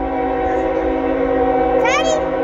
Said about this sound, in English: It is the train we saw earlier.